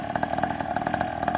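A small 49cc ATV engine, warmed up and running on a 40-to-1 oil mix, idles with a steady, buzzing pulse at moderate loudness, nearby and with no voices.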